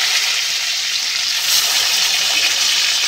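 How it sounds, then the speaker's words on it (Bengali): Salted, turmeric-coated eggplant pieces frying in hot oil, a loud, continuous hissing sizzle close up that holds steady for the whole stretch, with no voices. "বেগুনগুলোকে এরকম করে ভেজে নিতে হবে প্রথমে"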